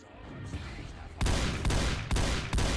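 Scatter gun shotgun blasts in a video game: after a quieter ambient stretch, three loud, sharp booming shots ring out about half a second apart, each with a brief decaying tail, and no talking.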